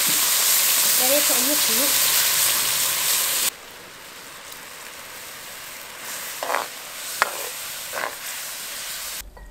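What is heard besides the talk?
cooking a sauce for Cantonese steamed perch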